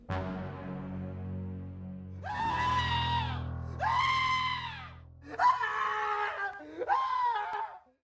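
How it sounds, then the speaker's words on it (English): Four drawn-out anguished screams of pain from inside a tent ring out one after another over a low droning hum, loud and strained, each fading before the next. "we hear Whitehead's horrifying screams of pain emanating from the tent."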